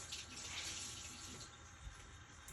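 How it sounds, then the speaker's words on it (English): Hands being washed under a running kitchen tap while cooking baked curry chicken, a steady close hiss of flowing water that continues throughout without any talk. "Let me wash my hands."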